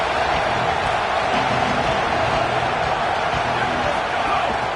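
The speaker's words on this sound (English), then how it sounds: "This crowd ready to make its presence known." Dense, steady roar of a big football stadium crowd at a Michigan vs Penn State college game, loud and continuous throughout with no break.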